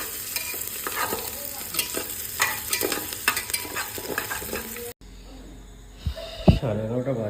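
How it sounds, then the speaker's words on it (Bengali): Onions frying for kacchi biryani, stirred with repeated scraping strokes over a steady sizzle; after a brief cut the scene turns quieter, with a few louder clatters and some breathy sounds near the end. "তো পেঁয়াজ লাল লাল করে ভেজে নিচ্ছি,"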